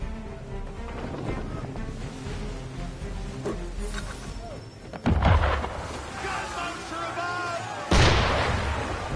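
Cannon fire directed at a ship in Assassin's Creed III rings out as two heavy booms, one near the middle and one near the end, over a continuous rumbling game soundscape with voices speaking throughout.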